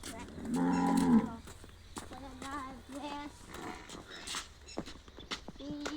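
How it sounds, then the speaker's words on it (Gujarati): Buffaloes at a family stable lowing, one deep drawn-out moo loud and close, followed by several shorter, fainter calls, with farmyard clatter and movement around them. "આ અમારી ભેંસો છે"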